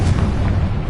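A Confringo spell explodes in Hogwarts Legacy, a loud, dense low-frequency blast and rumble filling the brief moment.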